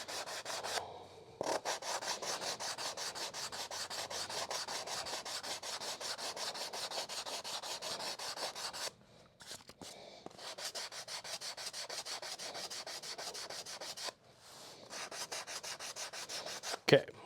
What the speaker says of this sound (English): this is like one of my favorite little sanding blocks that I've made